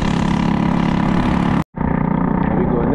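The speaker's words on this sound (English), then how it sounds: "This is a busy road, you know, a lot of motorbikes." Steady engine drone from motorbikes passing on a busy road in Guyana, loud and close, with a brief cutout partway through before the rumble resumes.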